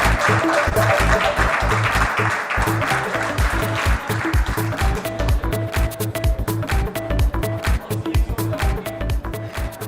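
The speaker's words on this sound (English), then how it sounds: "Louder round of applause, everyone." Applause from a crowd at a real-estate awards conclave, with steady clapping over loud background music and a low thumping beat throughout.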